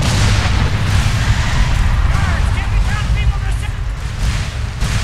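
A dragon in the video game Skyrim unleashing a fiery assault, with heavy booming roars and rumbling blasts sustained throughout, mixed with shouting voices.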